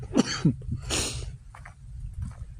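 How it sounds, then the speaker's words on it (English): A few rough, close coughs from a smoker in quick succession, followed by a harsh exhale and some faint throaty sounds trailing off. "I'm coughing up a damn cigarette."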